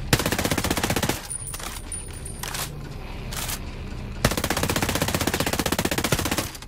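Rapid automatic gunfire from a weapon in the video game Ghost Recon Breakpoint, with dense loud bursts at the start and end and a brief lull in between, no talking.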